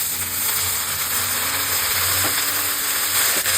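Note shak greens fry with onion in a pan, giving a loud, steady, close sizzle with a broad hiss that runs without a break and no talking.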